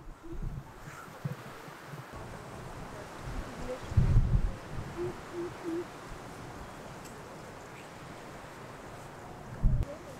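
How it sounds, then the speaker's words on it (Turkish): Steady outdoor wind rumble buffets the microphone in Adatepe village above the Gulf of Edremit on the Aegean coast, with a few stronger low gusts and faint background noise throughout. "Hava biraz rüzgarlı."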